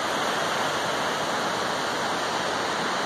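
Munson Creek Falls, a waterfall in an old-growth Oregon forest in Tillamook County, roars with a steady, dense rush of falling water, loud and unbroken, with no talk.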